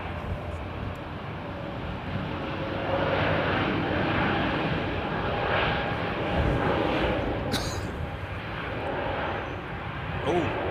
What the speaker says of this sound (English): A couple of American jets going out.